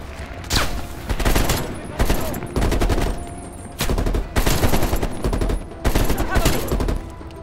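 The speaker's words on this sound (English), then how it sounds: "they're shooting at us" Rapid bursts of automatic gunfire from rooftop snipers in Call of Duty: Black Ops Cold War, several loud volleys separated by short pauses.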